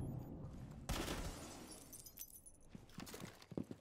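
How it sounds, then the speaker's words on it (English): Window glass shatters from gunfire in the video game Rainbow Six Siege: a sudden loud crash followed by scattered tinkling and clattering fragments, with no voices. "Or shooting the glass of the window."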